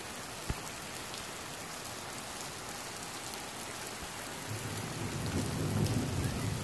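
Steady heavy rain pours down in Islamabad with a dense, hissing wash, a faint low rumble swelling near the end; no voices.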